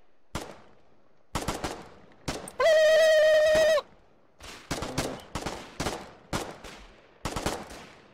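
Bursts of gunfire from the video game Foxhole, sharp cracks in short volleys spread through the stretch, with one sustained tonal whine in the middle; no talk.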